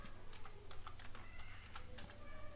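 Rapid keystrokes on a computer keyboard, tapping in an irregular, busy rhythm over a steady low hum, close and moderately quiet.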